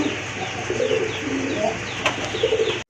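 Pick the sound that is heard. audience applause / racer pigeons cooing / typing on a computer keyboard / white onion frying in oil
racer pigeons cooing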